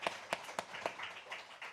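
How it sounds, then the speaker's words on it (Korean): A church congregation claps briefly in a quick scatter of sharp claps, fairly faint and a little distant, fading into murmuring. "이때는 박수를 치는 거예요"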